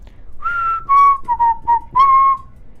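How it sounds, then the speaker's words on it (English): A person whistles a short tune of about five clear notes, close and fairly loud, with nothing else audible around the whistling. "Why do you hate when I whistle?"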